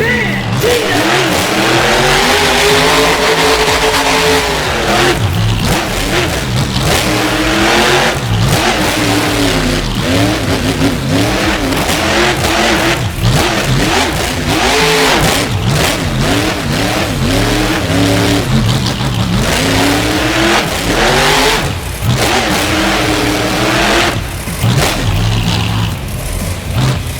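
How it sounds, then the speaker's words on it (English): Loud revving engine of the Bandito monster truck in a New Orleans arena show, sustained roaring throttle rising and falling in repeated surges close by across the whole stretch. "please welcome Team Monster Truck, Bandito!"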